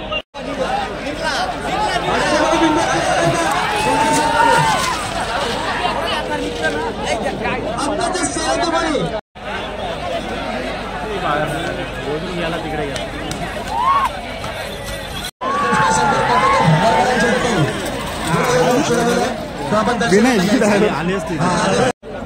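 Dense crowd hubbub at an outdoor village fair at a bullock-cart race ground, continuous loud babble of many voices with shouts, close and steady throughout with two brief cuts.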